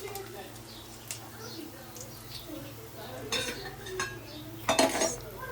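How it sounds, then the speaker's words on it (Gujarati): Peanuts drop into a pan of cooking poha, clinking and rattling against the metal with a louder scatter near the end, among soft stirring and kitchen clatter while someone talks quietly. "જો સિંગના દાણા નાખી દઉં."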